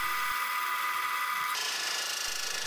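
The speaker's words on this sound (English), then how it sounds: "I took a small steel rod and drilled a hole in one end" A drill boring a hole in one end of a small steel rod gives a steady, high-pitched whine that grows brighter and harsher halfway through, close and continuous with no talking.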